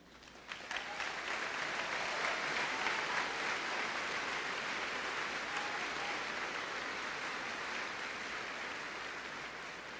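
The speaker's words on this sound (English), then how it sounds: "let's celebrate them with a round of applause" A high school graduation audience breaks into sustained applause that swells quickly, then holds as a dense, even wash of clapping for about ten seconds, fairly distant and filling the hall.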